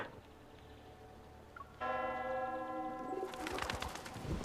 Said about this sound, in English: The bell startles the doves, and they fly into the air.